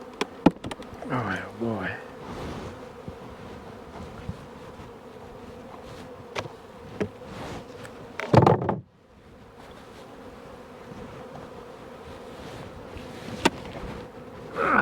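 A bunch of bees buzzing under a big box, a close, steady insect drone with a few knocks and a scraping, door-like shuffle partway through; someone speaks briefly over the buzzing.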